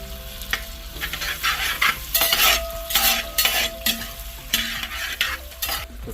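Sliced onion goes into a hot sizzling pan for a venison dish and is stirred, with repeated scraping and clinks of a utensil against the pan over continuous frying crackle, close and without speech.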